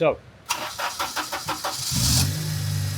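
A turbocharged Honda K20 engine in a budget EG chassis cranks in a quick series of starter pulses, then catches and fires, settling into a loud, steady idle nearby.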